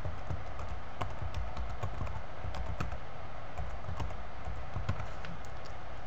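Keys clatter steadily on a computer keyboard as someone types a web address into a link field, a continuous run of close, fairly quiet taps with no voices.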